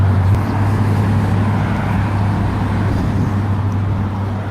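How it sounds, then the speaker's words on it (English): Steady traffic on a busy main street, cars passing continuously nearby with a constant low rumble and engine hum, no voices over it. "as you can hear all these cars going by."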